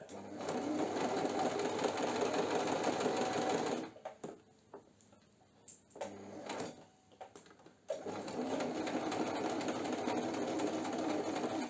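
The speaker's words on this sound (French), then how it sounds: "Vous rebaissez votre pied presseur et vous continuez à piquer." A sewing machine stitching a cushion cover runs in a loud, rapid, steady whir close by, stops for a few seconds of quiet handling, then resumes its even stitching rhythm.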